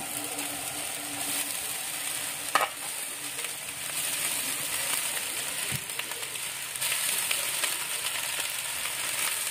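Leftover morning rice stir-fried in a pan with fried peas, a steady close sizzle with an occasional sharp clack of a spatula against the pan, no voices.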